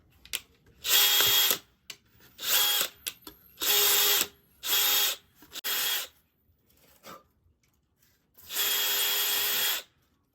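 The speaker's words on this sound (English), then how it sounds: "Small drill bit. And I'm just gonna put holes in here." A power drill with a small bit runs in six short, loud bursts of high whirring, boring into styrofoam, with brief quiet pauses between and a longer final run.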